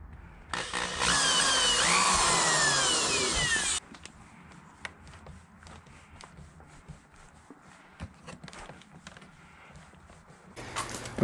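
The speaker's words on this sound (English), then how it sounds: "I'm going to drill a pilot hole right here" A power drill whirs loudly for a few seconds while boring a pilot hole to fit a front lip on a Toyota GR86, then stops, leaving quiet handling noises and faint creaks before a brief final burst.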